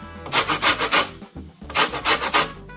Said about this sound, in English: So I took out all the zest from the lemon.